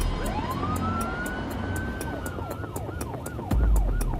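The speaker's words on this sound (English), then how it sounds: "We're coming on blue lights and sirens" An ambulance siren wails in a rising and falling pattern while the vehicle runs on blue lights to an emergency, heard steadily throughout. A low thump near the end sits under the siren.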